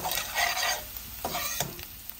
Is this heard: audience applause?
no